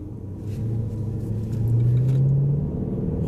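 Range Rover SVR engine rumbling while driving, a deep steady low growl that rises slightly in pitch as it pulls along, heard from inside the car without talk.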